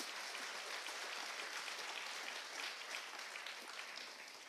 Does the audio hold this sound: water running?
no